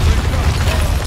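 A deep, rumbling explosion in the Tomb Raider video game, loud and sustained low boom filling the moment with no talking.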